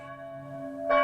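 A church bell rings at the opening of an early-1980s French TV film, a sustained bright metallic tone with lingering overtones and a fresh strike near the end, clear and alone.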